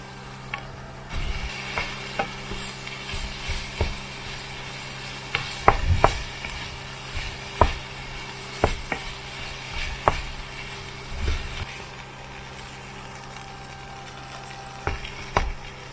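Cooked rice being stirred and fried in a hot pan for Cantonese-style fried rice, a soft sizzle running underneath repeated sharp scrapes and taps of the utensil against the pan, close and without talking.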